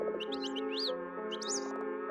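A bird chirps in quick rising and falling tweets over a steady electronic music drone, two short bursts of bright calls separated by a brief pause.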